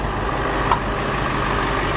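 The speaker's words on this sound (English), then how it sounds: "Everything in place, looking beautiful, and sitting here idling, purring like a kitten." A 2000 International IH 4219 forestry truck idles nearby, its engine holding a steady, even low rumble with a faint brief click partway through.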